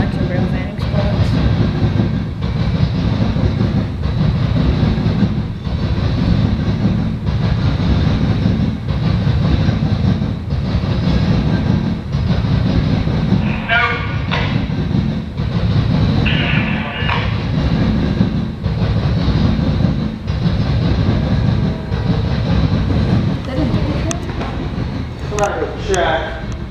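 A Norfolk Southern freight train rolling past in Marion, Ohio during a meet of northbound and southbound trains, loud continuous rumble with rhythmic wheel clatter close by, people talking over it.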